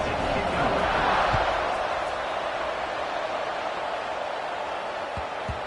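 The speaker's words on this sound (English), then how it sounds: "this crowd is feeling themselves after that last drive" Stadium crowd noise from the Madden football video game during a kickoff: a broad, steady roar of cheering that swells early and then holds at an even level, with a couple of faint thuds near the end.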